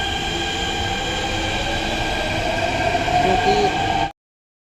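A Delhi Metro train at a Noida station, a loud, steady rumble of wheels and carriages with a rising whine near the end before the sound cuts off abruptly.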